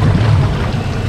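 A fishing boat engine idles out on Tampa Bay, a steady low rumble with constant wind and water noise, close and loud with no talking.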